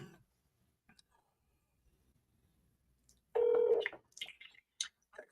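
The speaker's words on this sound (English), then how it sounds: "All right, I'm calling right now." A phone placing an outgoing call: silence with a few faint clicks, then a short loud tone burst followed by scattered brief beeps and clicks.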